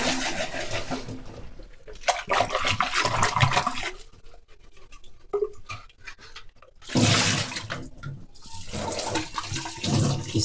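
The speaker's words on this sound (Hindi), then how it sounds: "हाउजिंग के अंदर गंदगी देखिएगा, तो ये गंदगी पूरी आपको धो देनी है" A dirty water purifier pre-filter housing is washed out under strong running water, loud gushing and splashing close up, with a quieter interval midway before the flow surges again.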